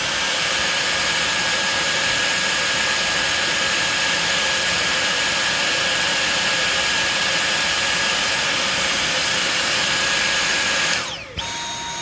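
Dyson cordless vacuum fitted with a Lanmu powered hose, running on high with a loud, steady, high-pitched whine that holds for about eleven seconds before dipping abruptly near the end.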